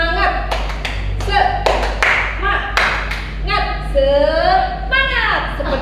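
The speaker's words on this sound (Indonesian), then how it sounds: "Tepuk semangat." A classroom of students performs a rhythmic spirit clap, sharp close hand claps in short patterned bursts, with a teacher's voice and children's speech in between.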